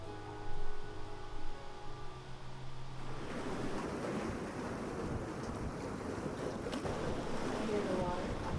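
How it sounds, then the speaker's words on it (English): Water and wind outdoors: a steady wash of moving water and gusty wind noise fills the scene after a few seconds, fairly close and continuous, following a short stretch where a voice is heard. "I hear the water."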